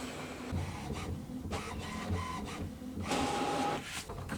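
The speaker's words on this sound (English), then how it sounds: "now it's calibrating the printer" An HP Envy Photo 7155 inkjet printer calibrating, with a steady mechanical whir, repeated carriage movements and brief motor tones, close and moderately loud with no talking.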